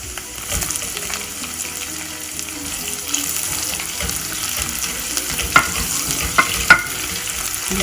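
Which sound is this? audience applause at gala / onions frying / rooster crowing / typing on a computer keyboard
onions frying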